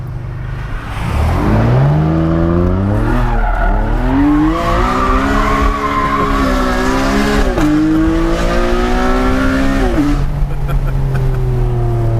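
A race car engine revs and wails close by as tires squeal through a long drift, pitch rising and falling, loud and continuous.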